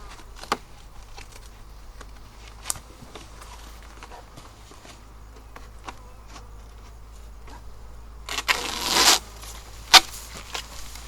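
Honey bees buzz around a hive in a steady background hum, with occasional louder bursts as insects pass close, plus a few knocks and scrapes; no one talks.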